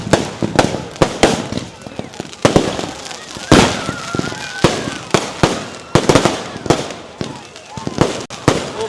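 Fireworks bursting at a Hindu temple festival, a dense run of loud cracks and booms following one another in quick succession, with fizzing crackle between blasts.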